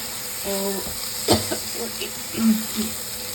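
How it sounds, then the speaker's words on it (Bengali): Tomatoes stirred and fried in a pan for sago fried rice, a soft steady sizzle with a few scraping stir sounds and brief murmured talk in the background. "টমেটো দিয়ে এবার একটু নাড়াচাড়া করে নিচ্ছি।"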